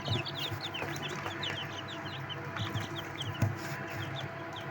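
Many young gosling chicks, about four days old, cheep and peep constantly, a busy overlapping chorus of high chirps close by, over a low steady background hum.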